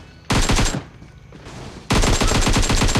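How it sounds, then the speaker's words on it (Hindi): Two rapid bursts of automatic gunfire in the mobile game PUBG Mobile, loud and close, each a quick rattling string of shots separated by a short pause. "गोलियां चलाई हैं ऐसे ही, उसको लग गई"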